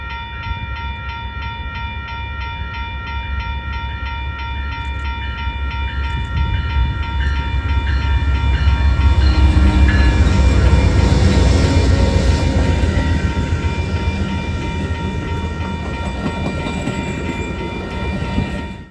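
An Amtrak passenger train pulls out of Sacramento heading east toward Roseville, with a steady loud rumble and rail hum that swells gradually over about nineteen seconds and then holds. No talking is heard.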